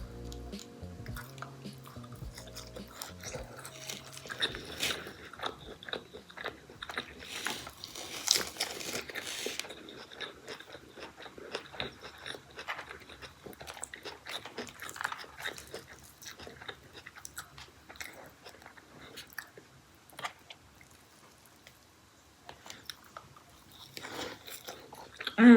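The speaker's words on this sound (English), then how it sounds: "This was turning into a messy mukbang" Someone eats Taco Bell food messily up close, with continuous wet chewing, crunchy bites, squishy smacks and occasional wrapper crinkles over a long stretch.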